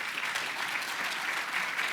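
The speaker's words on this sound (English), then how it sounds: "if you could please stand for one final round of applause" Steady applause from a seated conference audience at a South Bay economic forecast event at CSUDH, a dense even wash of clapping at moderate level with no pauses or speech.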